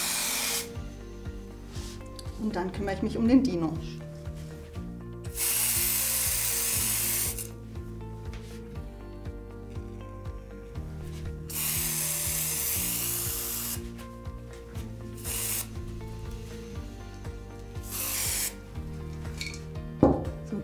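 A spray can sprays primer onto a dinosaur birthday candle in several separate hissing bursts, each lasting one to two seconds, with quiet gaps between them. Light clinks and handling noises sit underneath, and a voice speaks briefly.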